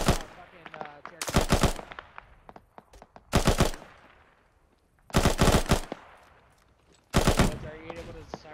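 Gunfire in the Arma III military video game, four separate loud bursts of rapid automatic fire spaced a couple of seconds apart, each fading into a reverberant tail, with faint radio-style talk between the volleys.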